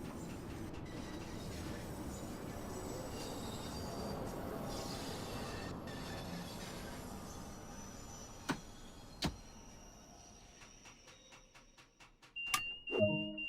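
A London Underground Bakerloo Line train in the video game Train Sim World 2 rumbles along, then slows with clanks, clicks and rising wheel squeals toward the end. The sound is moderately quiet overall.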